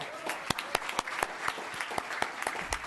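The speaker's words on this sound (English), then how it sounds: "Let's give one more round of applause for Bob and Pat." A small group at a town council meeting applauds steadily, the claps sharp and fairly evenly spaced throughout.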